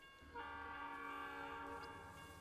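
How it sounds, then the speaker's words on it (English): A distant train horn in American Truck Simulator sounds as a long sustained chord, rising in at once and then holding steady and fairly loud across the clip, with no speech over it. "Train in the distance."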